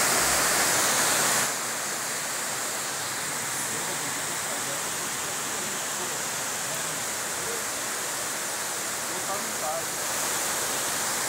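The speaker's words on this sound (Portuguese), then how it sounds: "Olha a velocidade em que essa água desce ali." Fast floodwater rushes down a street after rain in the 24 de Maio area, a dense, unbroken roar of flowing water that holds steady throughout and dips slightly after the opening moments.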